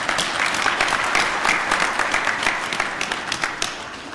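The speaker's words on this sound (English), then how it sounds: "Can you give a round of applause?" Crowd applause at a University of South Africa graduation ceremony in Ethiopia, loud dense clapping with sharp individual claps standing out, tapering slightly toward the end.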